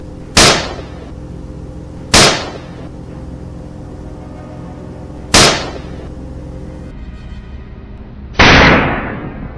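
Rifle shots ring out during a wild boar hunt in a swamp, four sharp loud reports spaced a couple of seconds apart, each with a short decaying echo, the last one heavier and longer.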